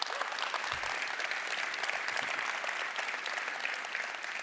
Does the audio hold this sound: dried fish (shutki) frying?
no